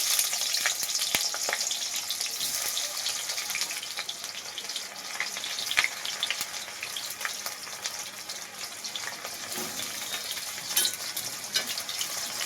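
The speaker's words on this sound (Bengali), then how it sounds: "এবার তেলের মধ্যে কেটে রাখা পেঁয়াজ দিয়ে দেওয়া হচ্ছে।" Chopped onion fries in hot oil, a steady dense sizzle and crackle with occasional stirring scrapes, close and continuous throughout.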